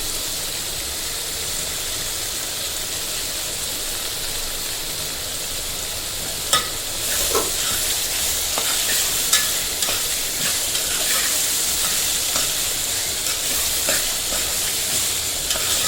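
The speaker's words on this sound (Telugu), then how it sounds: "ఇప్పుడు కొంచెం కరివేపాకు వేస్తున్నాం" Curry leaves and chopped tomatoes frying in a pan for chicken curry, a constant hissing sizzle that brightens midway as the leaves go in, followed by scattered spoon clacks of stirring, close and without talk.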